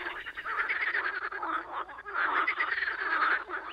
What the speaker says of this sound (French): Cachées parmi les lentilles d'eau, les grenouilles se camouflent à la perfection. Seul leur chant trahit leur présence.